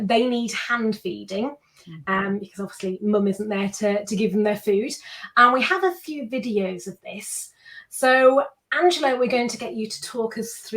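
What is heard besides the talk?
None of the usual background noises is heard.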